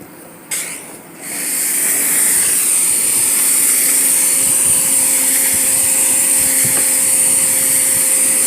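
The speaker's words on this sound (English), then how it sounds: "And this pressure wash is so light." Pressure washer spraying the side of an RV during a wash, starting with a short burst and sputter before settling into a loud, continuous, close hiss of water on the panels.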